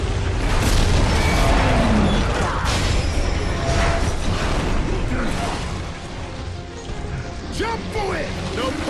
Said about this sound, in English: They're gonna bomb the whole ship